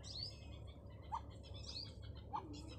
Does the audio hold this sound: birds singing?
yes